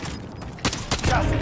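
Gunfire in the video game Warzone: a couple of sharp, loud bursts over a busy background of game noise and voices, near and rapid.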